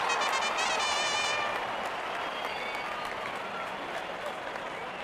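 A large stadium crowd of cricket fans at an IPL match between CSK and LSG applauds a strong shot, a steady dense wash of clapping and cheering that stays loud throughout and fades only slightly toward the end.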